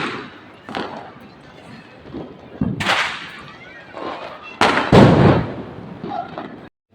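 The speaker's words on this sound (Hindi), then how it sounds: "हो रहा धमाका।" Sharp bangs of Diwali firecrackers burst at irregular intervals, some distant and others loud and close, with crackling pops between.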